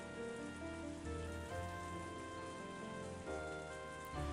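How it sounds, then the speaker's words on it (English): Steady heavy rain patters on scrap iron in trash heaps within a video game scene, a soft continuous drizzling hiss with a faint tonal music bed underneath. "I listened to the soothing sounds of the raindrops hitting the scrap iron in the trash heaps"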